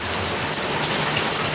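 Heavy rain pours down in a storm that later became Tropical Storm Andrea, a loud, dense, unbroken roar of falling water that fills the whole stretch with no voices.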